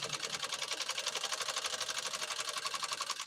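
A PFAFF 130-6 sewing machine with an embroidery kit stitches steadily, a fast, even mechanical chatter of needle strokes repeating rhythmically at close range with no voices.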